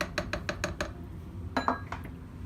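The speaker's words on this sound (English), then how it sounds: "I'm gonna stir this in so that everything gets all together" Gnocchi stirred in a pot at home, a quick run of five regular spoon-on-metal clinks and scrapes followed by a couple of louder knocks, close and alone.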